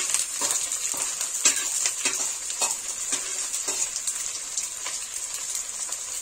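Onion and garlic fry in a hot pan for a bhindi recipe, a steady hissing sizzle with occasional stirring scrapes and pops throughout.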